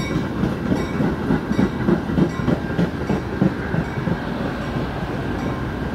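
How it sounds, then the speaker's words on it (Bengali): A double-deck diesel commuter train bound for Chicago, locomotive pushing at the rear, rumbles past Prospect Heights station with rhythmic clickety-clack of wheels over rail joints, steady and fairly close, gradually easing toward the end. "এই যে এখন ট্রেনটি শিকাগো অভিমুখে যাচ্ছে, ইঞ্জিনটা পেছনে আছে।"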